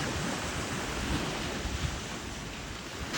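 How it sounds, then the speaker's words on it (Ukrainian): Sea surf washes in a steady broadband roar, with wind buffeting the microphone and no voices. "балдежний цей звук моря"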